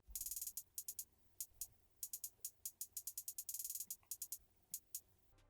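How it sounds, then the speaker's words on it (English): Crisp drill hi-hats play on their own, ticking in quick bursts and rolls with short gaps, bright and close with nothing else beneath them. "But the hi-hats on their own sound like this."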